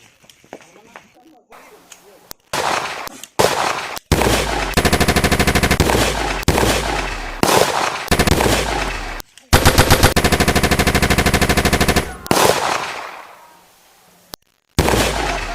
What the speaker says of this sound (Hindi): अरे उधर गोली चला है, देखते हैं क्या हुआ है।